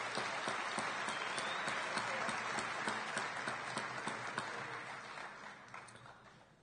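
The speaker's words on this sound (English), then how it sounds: "Give them a round of applause." Sustained audience applause fills a high school senior awards ceremony hall, dense steady clapping from a crowd that holds for several seconds and slowly tapers toward the end.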